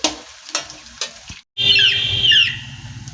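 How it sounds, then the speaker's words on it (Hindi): Potatoes frying in a pan in a home kitchen: a few knocks and utensil scrapes, a brief pause, then a loud, steady sizzle that continues to the end. "इसलिए फ्राई कर ले रही हूँ आलू"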